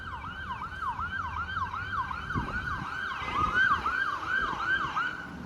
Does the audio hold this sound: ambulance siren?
yes